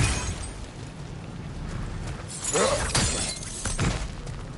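Pots smashed in the God of War Valhalla video game, a few sharp crashing shatters over a low game ambience, loud and close, spaced about a second apart.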